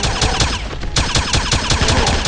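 MP40 submachine gun in the Wolfenstein video game, firing loud, steady, rapid bursts without pause, with no voices.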